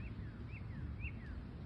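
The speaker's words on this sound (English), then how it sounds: "hear some birds chirping" Three faint, repeated whistled chirps, each a quick rising then falling note, sound from a bird outdoors over a steady low rumble of distant background noise.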